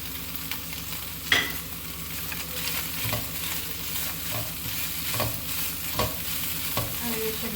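Carrots and capsicum sauté in a hot pan for fried rice, giving a steady sizzle with regular scrapes and knocks of a stirring spatula, close and even, no talking.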